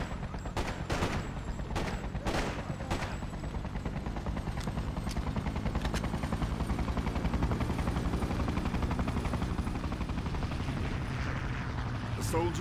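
Sustained gunfire from the Freedom Fighters video game: dense, continuous bursts of automatic weapons fire and scattered louder shots over a constant rumbling din, with game voices shouting underneath.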